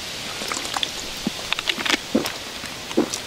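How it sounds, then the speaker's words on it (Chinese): Rain beginning to fall outdoors at a reservoir in western Hunan during a fishing trip, heard as a steady close hiss with scattered sharper drop patters and taps, no talking over it. "下雨了，我们准备回去吧。"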